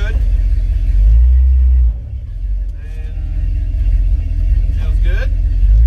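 A 1954-1971 Dodge D100 pickup with a disc brake conversion drives through a neighborhood with a deep, heavy engine rumble that dips and then builds again, while a voice speaks briefly over it.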